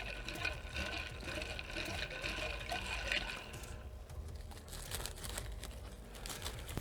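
Iced tea is stirred with a blue plastic straw in a glass, giving a steady wet swishing with scattered small clicks and rattles, fairly close and continuous throughout.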